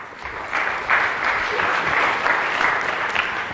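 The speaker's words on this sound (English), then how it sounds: "Big round of applause." Audience applause at a business talk on employee rewards, steady dense clapping from a crowd that runs throughout without a break.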